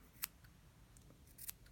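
Two or three quick, crisp snips of scissors trimming an embroidered yarn pom-pom, close and fairly quiet, with brief pauses between cuts.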